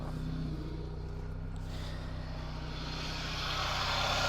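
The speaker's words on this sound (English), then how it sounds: "let's just go out and listen to the engine" A SAAB car engine with a timing chain idles steadily nearby, giving a continuous low, even hum with a faint rise toward the end and no talking.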